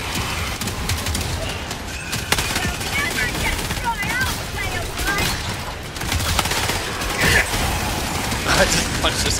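A mounted turret in Helldivers 2 fires continuously amid a dense mix of battle noise, gunfire and mechanical clatter, with voices talking over it.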